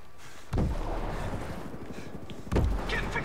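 Enemy gunfire in the tactical shooter Ghost Recon Breakpoint, two sharp loud shots about two seconds apart over a steady rumble of wind-like background noise.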